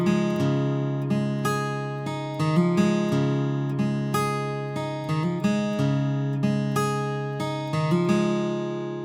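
A solo guitar plays the picking pattern from the break of a song, clear plucked notes in a steady repeating rhythm with hammer-on phrases, loud and close with no talking.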